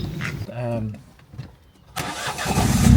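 A car engine cranks and catches, then settles into a loud, steady idle close by. Someone speaks briefly beforehand.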